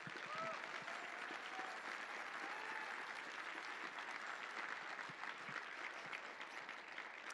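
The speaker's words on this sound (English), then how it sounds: "give them a round of applause" Audience applause fills a hall at a hacker and security conference, a steady, dense wash of many hands clapping throughout, with a few faint voices mixed in.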